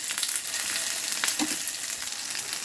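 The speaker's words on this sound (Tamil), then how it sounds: "இது நல்லா வதக்கிடுவோம்." Ground chutney sizzles and fries steadily in hot oil, a continuous crackling hiss with occasional stirring, up close and without speech.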